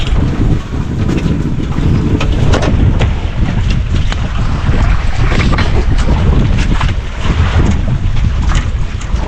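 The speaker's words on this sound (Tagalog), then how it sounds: "Mahangin eh." Strong wind buffets the microphone in a loud, continuous roar, with gusty rumbling throughout and a hint of water nearby.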